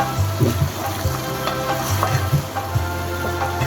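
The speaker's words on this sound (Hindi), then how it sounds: "दही के साथ हम इसको खूब अच्छी तरह से भुनाई करेंगे।" Mutton korma frying with yogurt in a pan, a steady close sizzle broken by bursts of spoon stirring and scraping, with soft background music and no talking.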